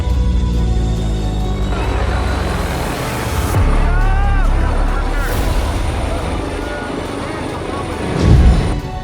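Helicopter of an Indian politician arriving for a showy entry, a loud steady rotor and engine roar with a swelling whine near the end, with voices talking underneath.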